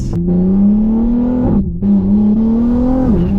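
BMW M3 said to make 800 wheel horsepower, its engine droning loud and steady from inside the car during a ride, pitch climbing and dipping through gear changes with brief drops in between.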